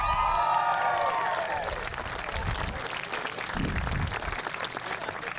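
Crowd clapping and cheering at a rowing regatta for an under-15 girls' coxed eight swells loudly at first, then settles into steady applause with a few whoops.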